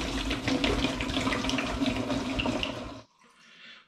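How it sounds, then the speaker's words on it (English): Homemade coconut sparkling wine is poured back into a fermentation vessel as a steady, splashing liquid stream for about three seconds before it stops abruptly, leaving a faint trickle. "So I'm pouring it back into the fermentation vessel now."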